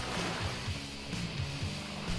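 Beach waves wash in with a low, continuous rolling rumble and repeated surges, the surf heard close and steady with no voices.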